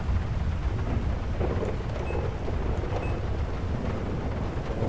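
Thunder from a severe thunderstorm rolls in a continuous low rumble under steady rain, loud and close throughout with no voices.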